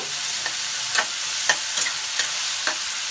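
Fish lightly frying in a pan in a home kitchen: a steady, close sizzle with a few sharper crackles and pops scattered through it, and no voices.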